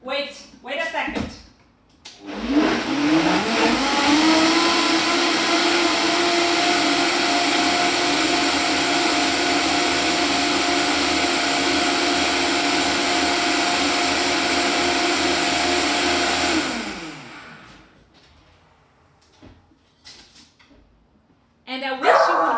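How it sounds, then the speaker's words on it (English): A countertop blender runs loud and steady for about fifteen seconds, whirring through a quiche Lorraine filling, spinning up at the start and winding down near the end, with talk just before and after it. "Now we have everything, and it's just blender time."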